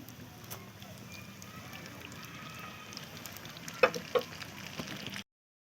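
Gur pitha, soft jaggery cakes, frying golden in oil make a faint, steady sizzle, with a couple of sharp utensil clinks near the end before the sound cuts off.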